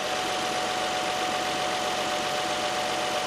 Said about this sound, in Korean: 자 엔진음 들려드릴게요.